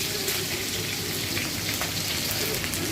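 Onion frying in a hot pan with cumin, dried chillies, garlic and green chilli, a dense, loud, steady sizzle held close up throughout, with no talk.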